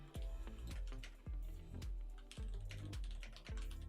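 Keys clack on a computer keyboard at an electronics repair bench, a close, loud run of quick uneven taps and sharp thumps with short pauses, no voices.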